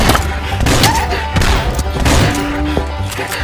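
Gunshots fire in quick bursts in the Swamp Attack mobile game, a string of punchy cartoon blasts and thuds with a few brief game effects in between.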